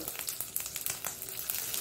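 Mustard seeds and urad dal crackle and sizzle in hot oil for a chutney tempering, a dense stream of sharp pops and spatters close up.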